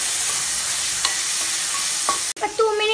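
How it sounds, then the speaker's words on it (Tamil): Tomatoes sizzle and fry in a pan while being stirred for a mutton head gravy, a steady close hiss broken by scraping strokes and a brief pause near the end. "தக்காளி ஆட் பண்ணிட்டோமே நல்லா லைட்டாக வடிக்கலாம்"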